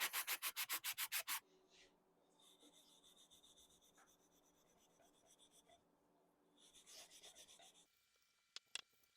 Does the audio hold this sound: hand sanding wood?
yes